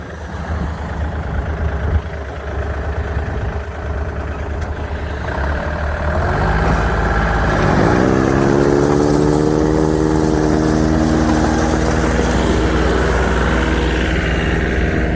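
Tractor-mounted snow blower with an auger clearing snow, the engine rising to a loud, steady, droning roar as the auger spins up partway through and keeps running without a break.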